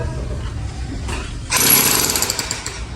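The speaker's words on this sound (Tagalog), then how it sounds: "naghuhukay na po para sa septic tank" Digging for a septic tank at a home construction site brings a loud, rapid percussive hammering that starts abruptly partway through and continues as a harsh, dense rattle over background noise.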